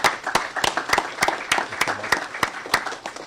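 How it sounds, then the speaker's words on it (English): A small audience gives a round of applause for the speakers at a governor's press event on Medicaid cuts in Washington, with close, distinct hand claps in a quick, uneven rhythm. "give a round of applause for the folks who spoke today."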